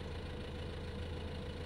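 A vehicle engine in the farming video game Landwirtschafts Simulator 2015 runs with a steady, low droning rumble, moderately quiet and unbroken, with no voices.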